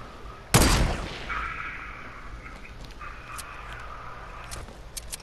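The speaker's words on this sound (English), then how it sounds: "I'm shooting the rocket" A rocket launcher fired in Fortnite, one sharp loud blast followed by a fading whoosh and a steady hum, with faint clicks later.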